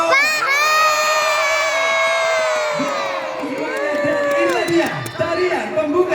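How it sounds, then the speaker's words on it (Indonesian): A large crowd at a live stage show yells and cheers loudly for several seconds, with long drawn-out shouts and high whoops from children and adults that fade into scattered calls. "boleh dong kasih teriakannya yang keras dong"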